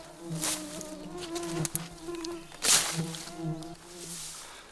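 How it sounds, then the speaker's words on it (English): Mosquitoes buzz close by in the wilderness at sunset, with steady whining drones that swell and fade as insects fly past, including one loud pass near the middle. "So right now is about the worst time for the mosquitoes, right at sunset."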